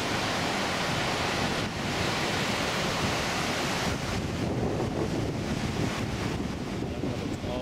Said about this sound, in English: amazing water flow there.